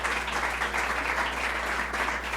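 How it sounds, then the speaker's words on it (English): Audience applause for the governor at a New York public announcement, a full, even round of clapping from a large crowd over a low steady hum, lasting a few seconds. "Let's give the governor a round of applause."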